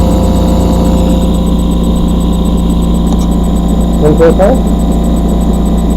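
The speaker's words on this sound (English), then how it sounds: "Well, that's the pulse motor." A Bedini pulse motor, coupled with a lenzless generator, runs under load with a steady, close electric hum and faint rhythmic vibration, unbroken throughout, while a voice briefly speaks near the end.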